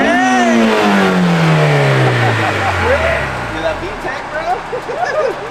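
An early-2000s JDM project car's engine revs up and then settles back, a single strong rise in pitch heard close by, with people talking over it.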